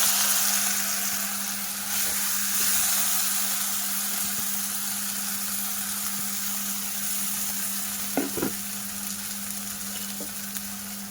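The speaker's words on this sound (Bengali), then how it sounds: "ঘির মধ্যে সাবুটা দিয়ে দিলাম" Sago dropped into hot ghee in a pan, giving a steady close sizzle and frying hiss with a low hum beneath and a brief clatter of stirring near the end, no voices.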